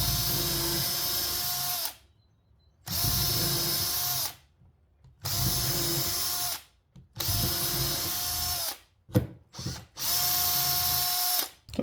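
A power drill drives 3-inch exterior construction screws into a wooden mailbox post in about five separate bursts, each a couple of seconds long with short pauses between, the motor whining up as each screw seats.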